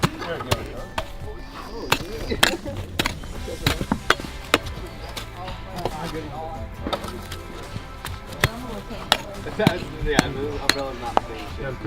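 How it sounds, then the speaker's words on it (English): Rock hammer and tools chipping at a cliff face while digging for amethyst at a private mine, giving repeated sharp close impacts in an irregular rhythm, with voices murmuring in the background. "now we're gonna continue chipping away at the cliff here"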